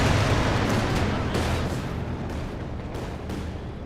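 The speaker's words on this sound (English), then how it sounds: "Land mattress rocket artillery. Katyusha Barrage engaging." In Company of Heroes 2, a Land Mattress rocket artillery barrage opens as a loud, heavy rumbling roar. Several rocket launches and blasts come in quick succession, then the thunder slowly fades.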